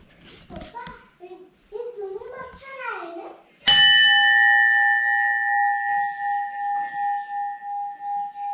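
Someone talks briefly inside an ancient Shiva temple in Gudeghar village, then a metal temple bell is struck once, loudly and close. Its bright clang leaves a long ringing tone that pulses and slowly fades.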